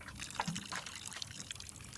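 In a video game, water is poured onto a freshly planted windmill wort seed in a pot, giving a brief, soft trickling splash that lasts about two seconds, fairly faint and with no talking over it.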